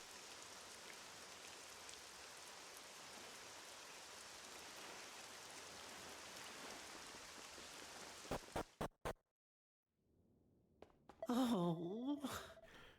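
Steady rain hiss in the video game Dragon Quest VII Reimagined, continuous for about eight seconds before a few sharp clicks cut it off, followed by near silence and then a brief burst of game sound.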